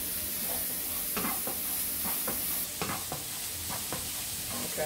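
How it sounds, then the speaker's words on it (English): Onion pieces sizzle in a hot pan as a spatula stirs and breaks them up, with close, sharp scraping strokes recurring over a constant frying hiss, for an oyster chicken dish. "start sauteing and breaking up those onions pieces"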